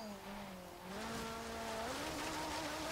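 A 1968 Ferrari 365 GTB/4 driven hard on an autocross course in Forza Horizon 3, its engine note climbing through revs with a shift dip and a sustained high-pitched roar.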